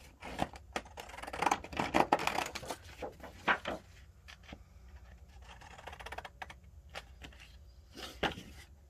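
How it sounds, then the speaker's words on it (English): Scissors with small serrated teeth snip through material in a quick run of crisp cuts, then slower scattered snips and one final cut, all close by with no talk. "the problem with these scissors is you have to have these little teeth go in the right direction"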